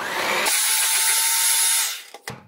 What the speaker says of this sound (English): And now you'll mix it together.